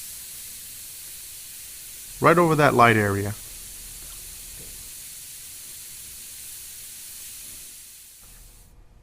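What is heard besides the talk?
airbrush spraying yellow paint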